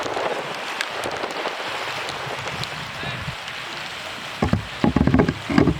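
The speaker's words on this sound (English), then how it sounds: "It's just started raining now" Rain begins falling on a sandbank beach during winter sea fishing, a steady broadband hiss under wind, with a few louder close taps and rustles near the end.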